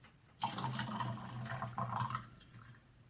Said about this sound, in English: We've got some about 95-degree water here. Just going to go in with a quick rinse.